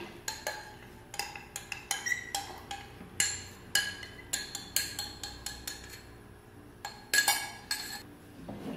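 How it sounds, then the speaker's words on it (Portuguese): A spoon stirs custard cream thickened with cornstarch in a pot, giving bright, repeated clinks and scrapes against the metal in a loose, steady rhythm, close and fairly quiet, with no talking. "E agora eu vou mexer bem até engrossar, pessoal."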